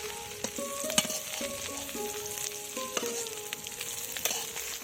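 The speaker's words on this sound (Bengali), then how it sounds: "তো লাল লাল করে কত সুন্দর করে ভেজে নিয়েছি দেখো।" Eggplant slices frying in oil in a pan, a steady close sizzle with crackling bursts and a few faint metallic clinks, no talk.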